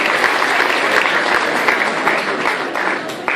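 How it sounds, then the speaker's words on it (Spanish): Loud, close audience applause at a financial-education seminar, a brisk dense patter of many clapping hands with a few sharper individual claps standing out, steady to the end. "Vamos a dar un aplauso a quienes están cediendo los puestos"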